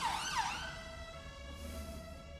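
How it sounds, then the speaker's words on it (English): An emergency vehicle siren wails outside, its rising and falling tone sweeping clearly at first, then settling into a steady high wail that lingers in the background without talk. "I'll repeat it because of this siren."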